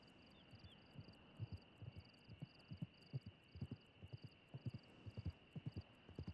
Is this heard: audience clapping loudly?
no